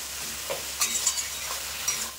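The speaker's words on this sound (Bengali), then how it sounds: "আমি কষিয়ে নেবো যতক্ষণ না টমেটো গলছে।" Spice paste with chopped tomato and salt being stirred and fried in a pan for a Bengali boal fish kalia, a steady close sizzle broken by scraping stirring strokes.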